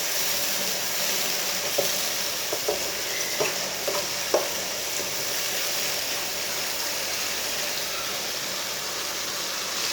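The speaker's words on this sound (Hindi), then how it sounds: "मिक्स कर लेंगे।" Sizzling chopped tomato and green chilli being stirred in a hot pan, a continuous loud frying hiss with a few soft spoon scrapes and knocks scattered through the first half.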